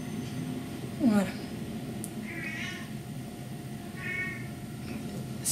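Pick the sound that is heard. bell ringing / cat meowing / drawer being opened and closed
cat meowing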